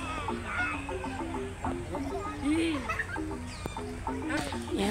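Poultry cluck and call in the small bird area at Ragunan zoo, a series of short, moderately faint clucks with faint crowd noise and voices in the background.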